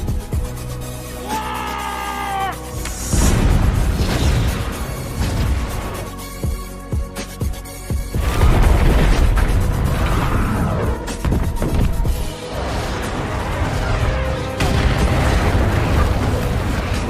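A nuclear missile detonation in the 2017 action film Wolf Warrior 2, fired by a Chinese navy commander, booms loudly and keeps rumbling in a sustained roar over dramatic score, with several heavy blasts and crashing debris following.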